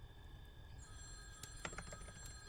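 A faint, thin telephone ring with a high electronic tone and light clicks plays low under a quiet room hum, no voices.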